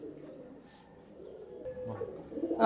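Soft cooing of flying pigeons, including red ones, murmurs low in the background, steady and gentle, growing a little louder toward the end with faint ambient rustle.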